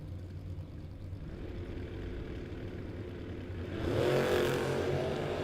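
Drag race cars, an 85 Camaro and a 68 Dart, idle low and rumbling at a distance before one engine abruptly roars louder near the end as it launches.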